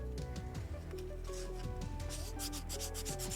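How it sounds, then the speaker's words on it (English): A craft piece, horns for a costume prop, being sanded by hand, with steady rhythmic rubbing strokes that speed up toward the end, close and continuous, heard without talk over a tonal background. "most of the time spent on my crafting streams has just been sanding"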